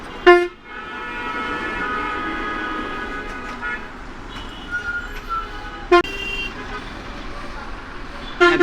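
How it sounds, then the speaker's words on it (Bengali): Vehicle horns toot on a congested Dhaka road, a few short honks standing out over steady engine and traffic rumble at a moderate distance, with voices briefly heard in the street noise. "এবং আমরা কিছুটা যানজট লক্ষ্য করতে পারছি এই জায়গায়।"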